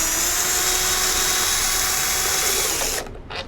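A power drill with a T25 bit whirs steadily at close range, backing out screws from the rear tail light of a 2010 VW Tiguan, then stops abruptly near the end.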